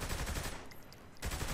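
Rapid automatic gunfire in Saints Row The Third, a short burst of dense shots, then a brief lull before firing resumes.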